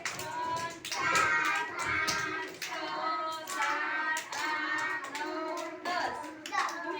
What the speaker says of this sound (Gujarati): ઉપર તાળી.